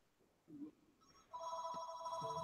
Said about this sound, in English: I heard a phone ring.